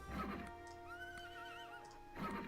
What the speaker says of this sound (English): And dancing, more horse noises.